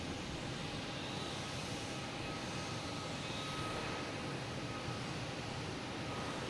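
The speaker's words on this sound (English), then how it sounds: "So United was clear for takeoff." A United airliner's jet engines roar steadily through a takeoff roll at Boston Logan Airport on an evening, a broad continuous rumble held at a moderate distance with no talk over it.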